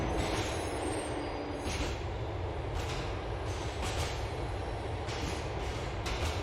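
Train ride in Grand Theft Auto: Liberty City, with a steady loud rumble of wheels on rails and rolling carriage noise throughout, periodic clacks and faint squeals, no talk.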